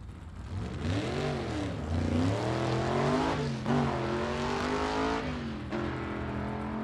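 A gasser race car runs down a drag strip at a Southeast Gassers Association spring nationals test and tune, its engine roaring loudly with rising and falling revs as it accelerates away.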